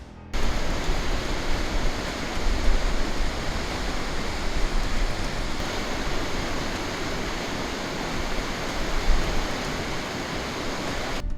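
Ebor Falls, swollen with heavy water flow, gives off a loud, constant, close roar of crashing water that holds steady throughout with no speech.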